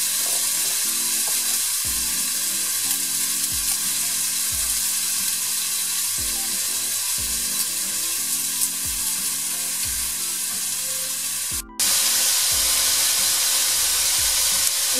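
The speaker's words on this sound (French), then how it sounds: "les oignons sont en train de frire" Onions sizzle steadily in a hot pan, a constant bright crackling hiss with occasional stirring sounds, close and loud throughout.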